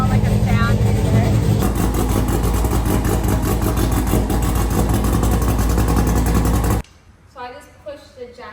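A car engine runs loud and close, a steady broadband roar with a rhythmic throb, then cuts off abruptly near the end, after which a voice speaks.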